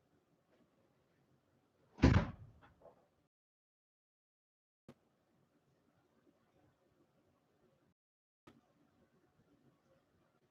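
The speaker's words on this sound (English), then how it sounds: "I'm going to go shut the front door." A house front door is pushed shut with one sharp thud, followed by a couple of faint knocks and quiet room tone.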